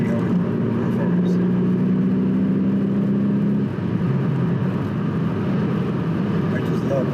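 An Audi S8 pulls away under hard acceleration on a test drive, a steady loud engine drone with a rising tone through the first half, then a continuous road and engine roar.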